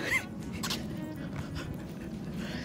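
Dogs whimper and pant close by, with a short high whine near the start and soft breathy yips and rustling through the rest.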